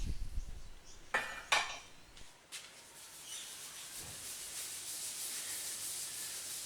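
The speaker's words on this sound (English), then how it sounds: "having sanded through the various grits, from sandpaper right down to 1200 grit" Sandpaper rubbing over an epoxy-coated MDF shower pan mould, a few knocks at first, then steady, even hissing strokes continuing close up.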